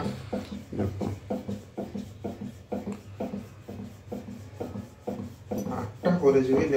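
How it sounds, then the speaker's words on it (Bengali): Hand-rolling roti dough on a board: a steady series of rhythmic rubbing, rasping strokes, roughly one or two per second, close and moderately loud, with no talk. "তা আমি এখন রুটি বানাচ্ছি"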